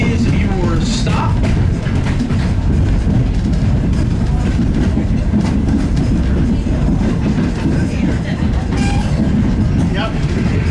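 Steady rumble and clickety-clack of a Strasburg Railroad passenger car in motion behind Norfolk & Western steam locomotive #475, heard from inside the train, loud and continuous with a few higher squeals and faint voices.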